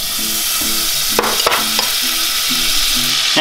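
Butter melting and sizzling in a pan at the start of a risotto for deep-fried risotto balls, a steady close hiss with a few sharper crackles, under background music.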